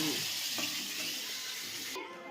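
Fish chorchori made with amudi fish and spring onions sizzles and fries steadily in a pan, with soft stirring noises close by and the frying dropping away near the end.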